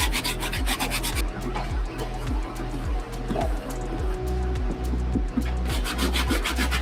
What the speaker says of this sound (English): We're just gonna continue to hit the shoes with the soft bristle brush.